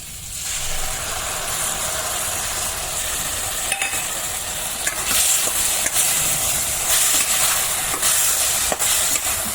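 Poppy seed and mustard paste fries loudly in a pan with a steady hissing sizzle, and scattered scraping clicks come from the spatula as it is stirred.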